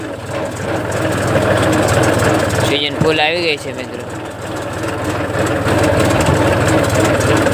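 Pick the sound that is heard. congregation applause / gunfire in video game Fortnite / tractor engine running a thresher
tractor engine running a thresher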